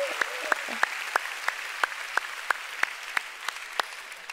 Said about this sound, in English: One more time, give all the moms a big clap.